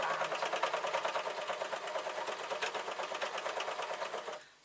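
A sewing machine stitches the ankle band of stretchy yoga trousers, a fast, even, close mechanical whirring with a regular stitch rhythm that runs steadily and then stops abruptly near the end.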